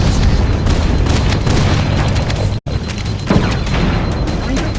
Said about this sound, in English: Use explosives on the other 3 reactors. That should be enough to trigger a wildcat explosion of the engine.